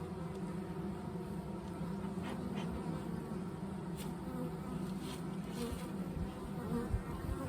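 A faint, steady hum of honey bees buzzing around the hive of an early swarm, a continuous drone with occasional louder passes close by, heard alone.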